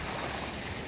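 Waves surging around a small fishing boat on the sea at dusk, a continuous soft rushing wash with a faint wind-like hiss, quiet and unbroken throughout.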